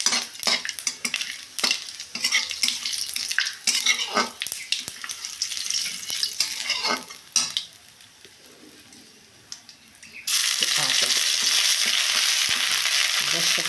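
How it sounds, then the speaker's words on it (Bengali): Cumin, dried chilli and bay leaf crackle and spit in hot mustard oil, with metal utensil scrapes and clinks in bursts, then a steady loud sizzle swells near the end. "সর্ষের তেল গরম করে নিয়েছি, এবার হচ্ছে জিরে ফোড়ন, শুকনো লঙ্কা, তেজপাতা"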